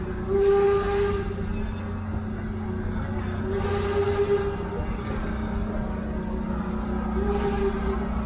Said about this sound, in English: We get two whistles when the train moves forward